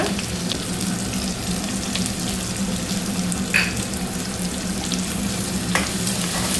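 Bell pepper curry frying in a pan, a steady close sizzle with soft stirring scrapes and a couple of brief metallic clicks, continuous and even throughout with no voices.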